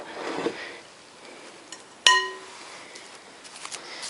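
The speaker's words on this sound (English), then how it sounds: "now that noise you heard came from this wonderful big bowl of different lichens and moss" A single bright clink of a big glass bowl holding lichens and moss, ringing briefly over faint background rustling.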